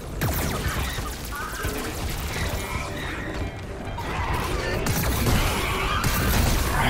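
Loud, dense bursts of mechanical firing and crashing roll on continuously, growing heavier toward the end, as an annihilator cannon blasts in Far Cry 5: Lost on Mars.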